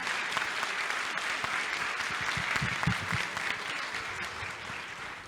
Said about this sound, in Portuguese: Solomar, a gente faça uma salva de palmas para todos nós que estamos aqui